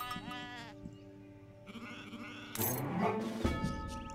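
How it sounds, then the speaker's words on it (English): Sheep in Age of Empires III bleat in several wavering calls, one after another, over a steady game background hum and layered effects. "looks like I got some more sheep."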